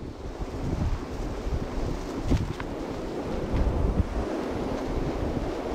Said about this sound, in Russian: Ох, какой ветер сильный.